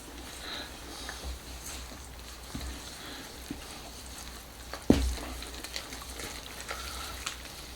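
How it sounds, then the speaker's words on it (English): Flatbread dough being mixed with a wooden spoon, soft scraping and stirring strokes with occasional knocks against the bowl, close and quiet. "I'm just going to incorporate this together until I get a nice dough"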